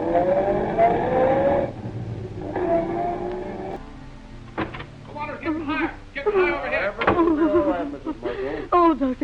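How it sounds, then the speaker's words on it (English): A car starts and drives off in a 1938 old-time radio drama, engine revving with rising and falling pitch after a stretch of people talking, moderately loud. "Hop in the car, you kids."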